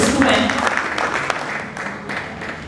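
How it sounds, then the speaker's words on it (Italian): Audience applause for a clothing line made from natural fabrics at a Naples fashion week show, a burst of clapping that fades over a few seconds. "forte applauso per questa linea stupenda"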